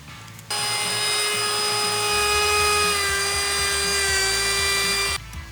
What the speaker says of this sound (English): We start sanding with 80 grit to flatten everything and get the saw marks out of the table saw.